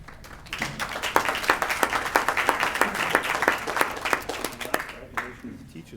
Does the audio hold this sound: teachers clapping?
yes